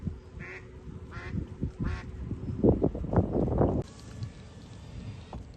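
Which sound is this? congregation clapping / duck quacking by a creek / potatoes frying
duck quacking by a creek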